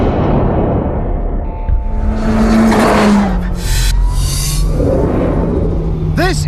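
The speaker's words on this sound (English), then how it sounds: "This turbo makes the most gorgeous noise." A turbocharged race car engine revs and whines loudly up close, with rising and falling pitch sweeps, a steady growl underneath and sharp whistling bursts near the end.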